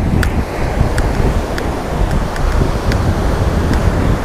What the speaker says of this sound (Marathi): प्रचंड मोठ्या लाटा आणि प्रचंड असा आवाज या लाटांचा इथे घुमतोय